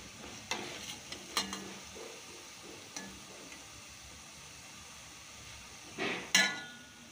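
Jalebis lifted out of sizzling oil after frying: a steady low fry hiss runs throughout, broken by a few sharp clinks of a utensil and a louder splashy bubbling burst near the end, close and with no talking.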